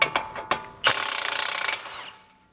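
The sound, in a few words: ratchet removing 21 mm bolt from suspension arm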